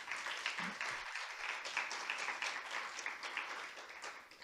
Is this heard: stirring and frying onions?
no